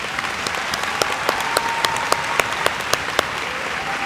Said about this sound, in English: Let's give them one bigger round of applause